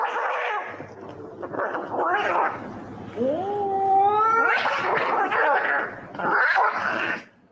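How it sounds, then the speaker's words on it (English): Cats fight at around three in the morning, a close, loud run of yowls, growls and rising caterwauls that swell and break off over several seconds. "Cats fighting."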